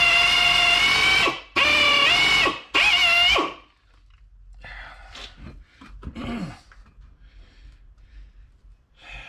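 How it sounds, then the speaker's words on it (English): A power drill runs in three loud sustained bursts with short pauses between, set against a front pump during inspection and modification work, followed by quieter scraping and handling noises. "drill back a little bit here. I'm hitting the chuck."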